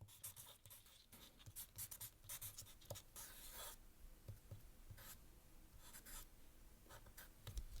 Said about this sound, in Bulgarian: Даже ще взема една химикалка и ще напиша